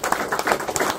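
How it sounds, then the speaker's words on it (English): Applause for a sponsor at a fishing tournament awards event, the Clarence River ABT Australian Open: a steady, dense patter of clapping from a crowd, moderately loud and continuous throughout. "Round of applause for Opala."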